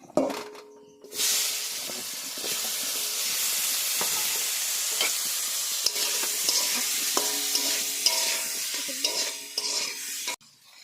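Potatoes frying in oil seasoned with salt and turmeric make a loud, continuous hissing sizzle that bursts in after a moment of quiet, with scattered stirring clinks and scrapes over nearly ten seconds.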